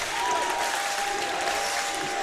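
A home crowd and student section roar and clap at a high school men's basketball game, a steady wash of cheering that fills the gym for the whole stretch, with an announcer's voice faint beneath.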